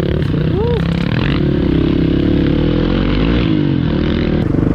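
A Hero Xpulse motorcycle rumbles steadily along a forest trail, a loud continuous engine drone under someone talking throughout.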